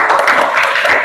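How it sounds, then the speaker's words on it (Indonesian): A class of students claps hands in a school lesson, a short burst of scattered, overlapping claps heard close and fairly loud. "Tepuk tangan dulu."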